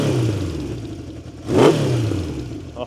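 Engine of a 1970 Honda CB750 K0 motorcycle with a fully rebuilt engine, running with a steady idle then a sharp, loud rev swell around the middle before settling back, heard up close with no talk.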